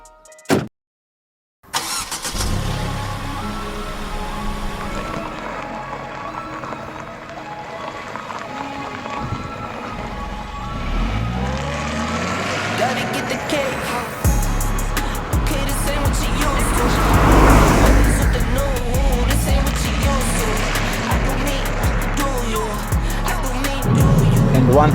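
A Mercedes-Benz C180 W204 starts after a few clicks and a brief silence, then its engine runs and builds as the car pulls away and gathers speed, a steady mid-pitched drone growing louder toward the end, with a voice speaking over it.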